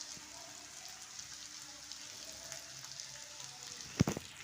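Boiled, mashed potatoes go into a hot frying pan, a steady soft sizzle running throughout, then a sudden louder thump and crackle near the end as they drop in.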